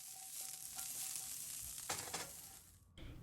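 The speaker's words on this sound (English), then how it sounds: "For the broccoli, I just lightly pan-fried it and then topped it with a few drops of sesame oil" Broccoli lightly pan-frying in a pan, a close steady sizzle and crackle with brief stirring or scraping movements, no voices.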